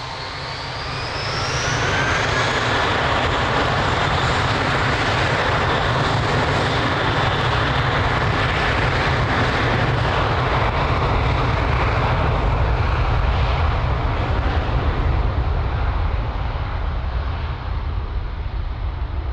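An airplane rolls for takeoff from runway 02 at Lisbon Airport, its jet roar swelling within the first two seconds and then holding loud and sustained, with a rising whine above it.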